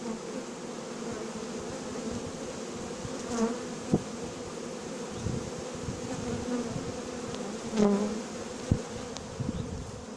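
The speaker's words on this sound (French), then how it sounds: "Et voilà les premières abeilles qui battent leur appel au-dessus." Honeybees fanning and buzzing above a hive during hiving on a farm, a continuous dense drone with individual bees swelling louder as they fly close past, no talking.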